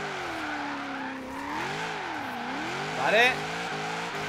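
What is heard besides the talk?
V8 Ford De Luxe Coupe warming tires, skidding, in the video game Forza Horizon 3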